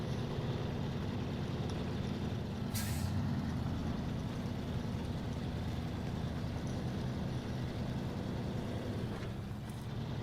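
A truck in the video game Snowrunner driving through mud, with a steady low engine rumble throughout and a short hissing burst of air brakes near the start and another near the end, no talking.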